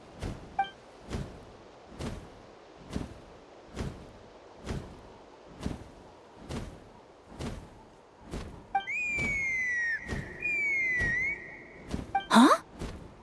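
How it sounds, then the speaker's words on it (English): A shrill whistle rings out in the video game Genshin Impact, a steady pitched tone that glides and repeats over regular thumping footsteps, followed by a sharp rising chirp. "That sounded like a whistle."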